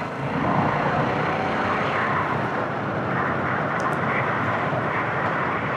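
A Harley-Davidson Sportster S engine on a ride gives a steady, loud, broad roar mixed with rushing wind, unbroken for the whole stretch with no talking.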